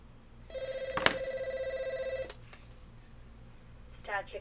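An old-style telephone bell rings in a continuous metallic trill for about two seconds before stopping, fairly close in a quiet room, followed by faint background noise and a brief voice at the end.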